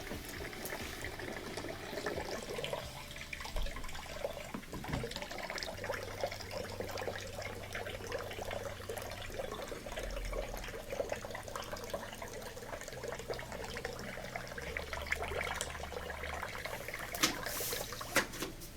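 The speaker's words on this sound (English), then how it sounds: "let any water that's left in the machine drain out" Leftover water drains out of an LG washing machine through the coin trap opening, a steady faint trickle and gurgle running continuously with no voices.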